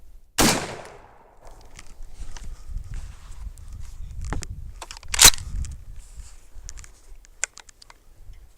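A single loud shotgun blast from a Mossberg 500 pump shotgun fitted with an MCARBO trigger spring kit and glow sights, fired outdoors, with a sharp report near the start, a second crack around midway and faint rustling between.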